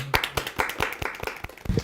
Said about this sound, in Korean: 박수로 환영해 주실까요?